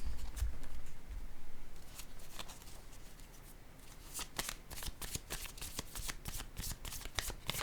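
Tarot cards being shuffled close up during a French card reading, a soft steady riffling that sharpens into rapid crisp flicks and snaps toward the end, with no talk over it.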